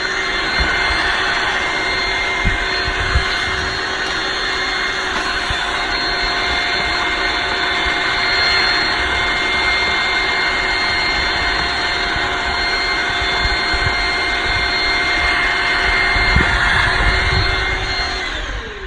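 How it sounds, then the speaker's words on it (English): A vacuum cleaner runs continuously with a loud, steady whining roar and a few faint knocks underneath, no talking. "have a vacuum cleaner like this one here and just clean it first"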